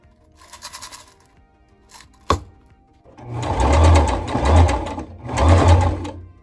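A sewing machine stitches a vintage fruit-print tablecloth in loud, steady bursts of whirring, rattling mechanical noise, preceded by a sharp click and some quieter handling sounds.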